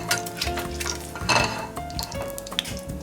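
Food frying in a hot oil bath in a wok: a continuous loud sizzle and crackle, with stirring and the clink of utensils against the pan. No one speaks.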